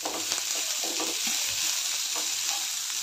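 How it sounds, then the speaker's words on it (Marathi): Cluster beans and roasted garlic being stir-fried in a pan, a steady loud sizzle running the whole time with soft scraping stir strokes scattered through it, no voices. "सर्व मिक्स करून परतून घेऊया 1-2 मिनिटं।"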